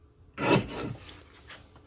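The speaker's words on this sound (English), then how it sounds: "We're going to trim these at the same time." A paper trimmer blade cutting through a neatly stacked pile of card pieces, one short, close rasping slice that fades into a softer dragging scrape.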